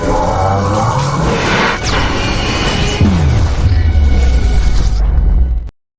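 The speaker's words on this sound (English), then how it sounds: "Here's a Doomsday Explosion for you." A loud, sustained doomsday explosion sound effect played over a livestream, roaring and rumbling continuously for about five seconds with swooshing debris and sweeping tones before cutting off abruptly.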